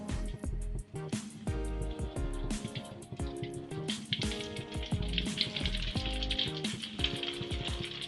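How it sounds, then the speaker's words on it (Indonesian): Steady, dense sizzling of bomboloni donuts frying in hot oil runs throughout, with harmonic musical tones playing over it and no talking. "minyaknya sudah panas, lalu kita goreng donatnya."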